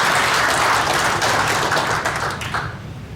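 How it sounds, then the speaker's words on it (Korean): An audience at a Buddhist forum event claps loudly in a thick, continuous burst welcoming a professor, then the applause thins and fades out toward the end. "큰 박수 부탁드립니다."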